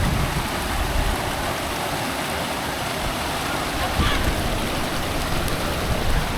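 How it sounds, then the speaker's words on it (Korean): Clear stream water rushes steadily through a rocky valley gorge, a dense, continuous near wash with no pauses, while a few faint voices carry in the background. "물소리 봐 물소리"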